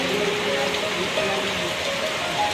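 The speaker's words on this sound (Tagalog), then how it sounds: "lalakas ang ulan" Heavy monsoon rain pours steadily in Mariveles, Bataan, a dense continuous hiss close by, with a voice speaking faintly beneath it.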